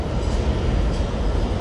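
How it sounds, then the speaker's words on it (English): A New York City subway C train approaches a station on the IND 8th Avenue Line in Manhattan, a loud, steady low rumble of wheels and cars filling the platform, close and continuous with no talk. "we got the C train approaching"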